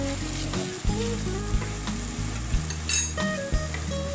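Keto ginger chicken with black pepper is stir-fried in a pan: a constant close sizzle with a low steady hum underneath and periodic clinks and scrapes of the utensil.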